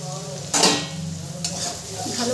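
Chira polau, flattened rice with vegetables, is stirred in a pan over a gentle sizzle, with a couple of scraping strokes of a spatula rising above the steady frying hiss, close and without voices.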